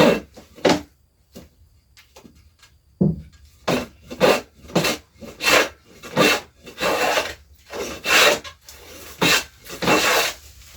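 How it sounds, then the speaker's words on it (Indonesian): Hand plane shaving wood to build a wood-and-bamboo chicken coop: a close, rhythmic series of a dozen or so rasping strokes, a few sparse ones first, then quick regular passes. "Nah, ini kita serut lagi."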